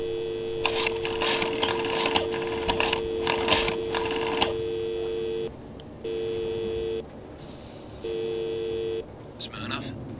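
A telephone call dialed in the video game Blacksad, with steady electronic ringing tones that pulse on and off in a regular pattern, heard close and clear after a few brief beeps.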